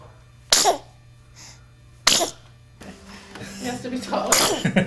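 Two sharp, wet sneezes burst out close by a second and a half apart, followed by voices talking.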